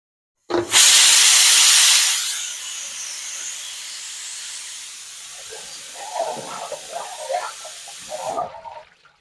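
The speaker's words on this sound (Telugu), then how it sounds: "ఐదారు విజిల్ అయితే వచ్చేసిందండి ఇంకైతే మంట అయితే తగ్గించేసేసుకొని" A pressure cooker cooking mutton curry with ridge gourd vents a loud burst of steam, a strong hiss that starts abruptly, then fades into a steady lower rush, with a person talking over the end.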